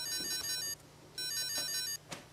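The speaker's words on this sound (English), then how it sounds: "I think I hear my cell phone ringing." A cell phone rings in two electronic bursts of bright repeating tones with a short gap between them, loud and alone with no talking.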